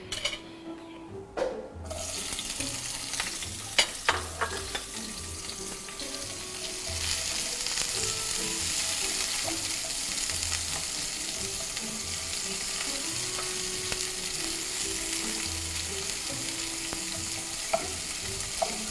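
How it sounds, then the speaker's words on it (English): Onion and garlic sauté in about three tablespoons of olive oil in a skillet with a loud, steady hiss after a few initial clatters, with occasional stirring knocks and no talking. "And now we're going to saute our onion and garlic."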